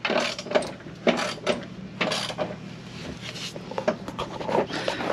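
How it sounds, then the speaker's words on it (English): Bolts are tightened on a rollbar in a Miata, with a run of close metallic ratcheting clicks and clinks repeating irregularly over a few seconds. "The next step in this process is to tighten the bolts."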